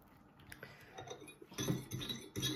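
A whisk clinks repeatedly against a bowl while kids make pizza pinwheels, a series of light, quick metallic taps growing busier and louder toward the end.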